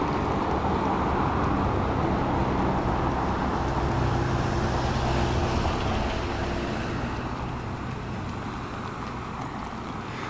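A car passes on an empty night street in Alanya as a steady, moderately faint traffic rumble that slowly eases off toward the end, heard alone without talk.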